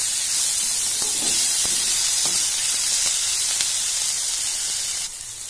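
Tomatoes and vegetables frying in a hot pan for fried rice, giving a continuous loud sizzling hiss with light crackles throughout and a slight drop in level near the end.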